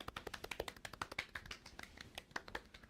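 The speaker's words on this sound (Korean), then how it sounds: "박수 한번 가시죠" Studio hosts of a drama commentary broadcast clap briefly, a quick run of close, light, irregular hand claps with no talking over them.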